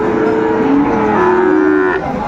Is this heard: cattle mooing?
yes